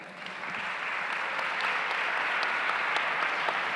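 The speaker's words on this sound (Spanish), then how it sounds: "Un aplauso para Leo" Sustained audience applause at a democracy panel event in La Plata, a steady broadband wash of many hands clapping, building slightly and holding evenly throughout.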